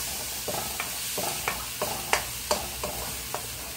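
Garlic sautéing in a pan for Filipino sisig, a low steady sizzle broken by a regular series of sharp spatula scrapes and taps against the pan, close and fairly quiet.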